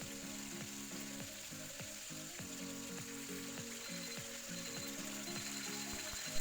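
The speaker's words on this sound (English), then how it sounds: "as you're hearing in the background, that is my timer for 12 minutes frying on high heat" A kitchen timer ticks in a rapid, regular mechanical rhythm over a steady sizzle of chicken frying on high heat nearby.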